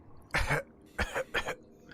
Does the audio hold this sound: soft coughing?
yes